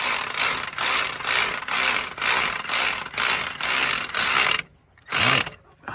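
Ratchet tightening a bolt while installing an alternator clicks in repeated rhythmic bursts, each a quick run of pawl clicks, close and clear, with a short pause before a final burst.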